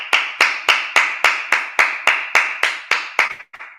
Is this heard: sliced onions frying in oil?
no